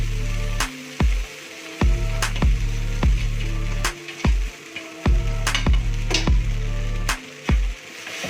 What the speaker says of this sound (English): So now I'm gonna add the flattened rice or Poha.